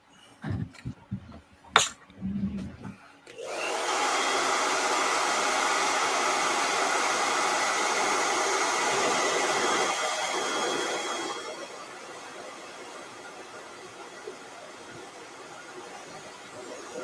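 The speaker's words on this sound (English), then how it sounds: "Let me hit this with a blow dryer." A blow dryer drying paint on a portrait painting, switching on after a few clicks and handling knocks, then running as a loud, steady whooshing roar that drops to a softer level near the end, with no talk.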